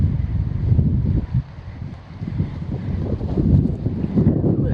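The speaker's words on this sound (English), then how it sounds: "Real windy here." Strong, gusty wind roars continuously across the microphone, a low rumbling buffet that swells and eases without pause.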